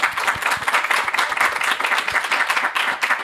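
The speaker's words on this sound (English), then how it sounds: "So if I get a round of applause for our fantastic panel here." Audience applause for a panel at a live event: thick, continuous clapping from many hands at fairly high volume, steady from start to finish with no talk.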